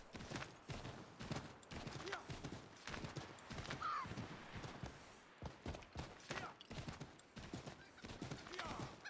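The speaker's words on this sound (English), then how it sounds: "They did improve the horse traveling quite significantly in 3." Horse hooves clip-clopping in Assassin's Creed 3 Remastered, a steady rhythmic trot of close, distinct hoofbeats with a brief neigh midway, while someone talks over it.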